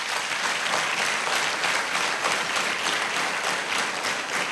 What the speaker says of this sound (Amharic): አጨብጭቡለት ለባይብል።